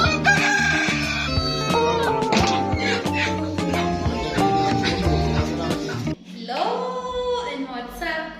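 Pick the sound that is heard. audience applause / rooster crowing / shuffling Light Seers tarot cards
rooster crowing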